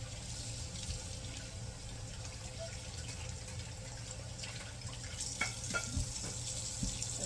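Tap water runs steadily into a kitchen sink while dishes are washed, a constant faint splashing hiss with a few clinks and small knocks of plates near the end.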